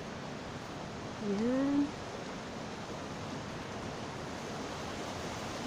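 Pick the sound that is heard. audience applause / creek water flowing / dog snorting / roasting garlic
creek water flowing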